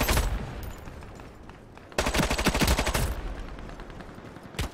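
Rapid gunfire from the online shooter Ironsight, a short burst then a dense, loud automatic volley of a P90-style weapon lasting about a second, with a final isolated shot near the end.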